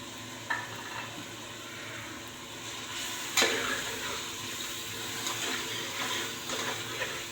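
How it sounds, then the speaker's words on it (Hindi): Tomatoes, green chilies, salt, chili powder and turmeric fry with golden onions in a pan for masala bhindi gravy, a steady soft sizzle with occasional stirring scrapes and one sharper clatter, no talking. "मैं थोड़ी देर फ्राई करके टमाटरों को मैश करके फिर आप लोगों को दिखाती हूँ"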